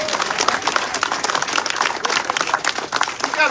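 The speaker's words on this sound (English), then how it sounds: "you should clap for union apprenticeship programs" Crowd clapping at a political rally, with dense, loud applause from many hands continuing steadily throughout.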